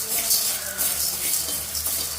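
Mung beans dry-roast in a pan, making a steady, bright rustling hiss that swells slightly with each stir, close and continuous.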